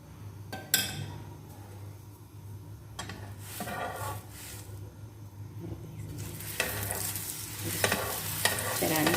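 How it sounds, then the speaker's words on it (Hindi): An aloo paratha fries in ghee in a pan with a soft, steady sizzle. Scraping and clinking from the spatula and pan come in bursts and build toward the end. "हम इसमें डालेंगे घी और इसको करेंगे फ्राई।"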